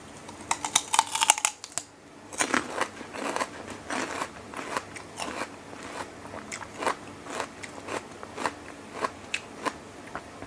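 Crisp, loud bites and crunches into crunchy vegetables in a salmon seafood noodle salad with egg and fish balls, a close series of sharp crackling bites every half second or so, eating alone.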